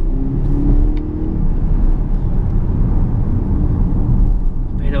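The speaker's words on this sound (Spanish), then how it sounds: "el coche, la verdad, en carretera no deja de ser un coche de 5 metros" Volvo S90 T8 Twin Inscription plug-in hybrid sedan, a 2018 car about five metres long and two tonnes, cruising on an open road with a steady low engine and tyre roar throughout, no talk over it.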